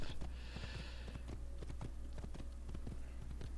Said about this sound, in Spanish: No se fijen en un simple hombre a caballo.